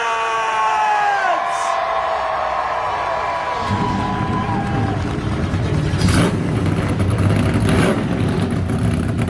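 Several NASCAR Gen 7 race car engines fire up and rumble deeply together as a crowd cheers and whoops in the background.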